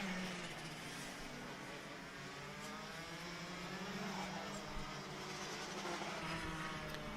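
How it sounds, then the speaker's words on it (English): A Rotax kart engine drones slowly and strains while laboring at a racing championship, a faint, steady engine tone that rises slightly in pitch as it goes on. "someone's car's sounding very, very slow and a little bit in pain"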